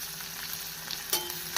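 Oil sizzles steadily as onions, green chillies and curry leaves fry in a pan, with a couple of brief clinks from stirring.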